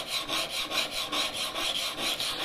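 A steel chisel is sharpened on a diamond stone, a steady back-and-forth rasping scrape in rhythmic strokes, close and fairly loud with no voices.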